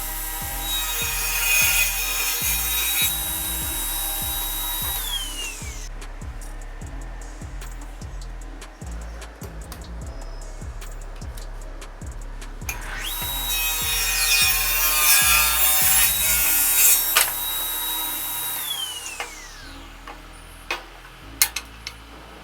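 A Sharp Gold SGTS-411 table saw cuts through wood in two passes, each a loud high whine with rasping bite that drops off as the blade spins down, separated by a quieter stretch of rhythmic knocking and handling.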